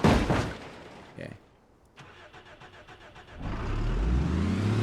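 A car engine in the BeamNG.drive driving game, on a damaged car with rockets attached, cranks briefly with rhythmic chugging, then catches and settles into a steady rumbling idle; a voice speaks over the start.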